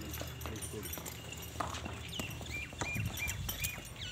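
A mare's hooves clip-clop at a walking pace nearby, uneven taps over background murmur and a voice speaking.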